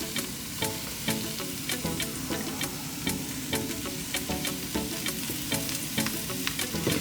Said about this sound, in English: Now we're gonna fry down the mushrooms